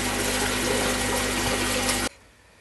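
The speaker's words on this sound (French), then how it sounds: "J'ai installé aussi là-bas tout au fond un bulleur qui vient oxygéner l'eau contenue dans ce filtre." An air bubbler at the bottom of a pond filter in a January vegetable garden oxygenates the water, making a loud, close, steady rushing bubble that cuts off abruptly near the end.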